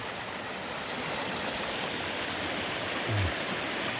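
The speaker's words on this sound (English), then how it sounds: "Yay, there's the Sismus River, or part of it." A side channel of a river flowing steadily, a constant broadband rush of water at moderate distance, with a brief low thump near the end.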